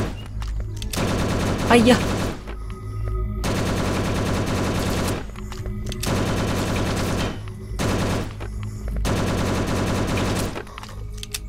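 Repeated bursts of automatic gunfire from a zombie survival shooter game, Last Hope Bunker, firing at zombies in several sustained volleys separated by short pauses, with a brief shouted voice partway through.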